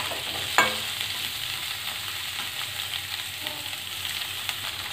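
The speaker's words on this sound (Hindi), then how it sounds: "हल्का सा इन्हें हम फ्राई कर लेंगे।" Chilies fry in ghee in a pan for chili paratha, giving a steady, soft sizzle throughout with one brief clink of a utensil near the start.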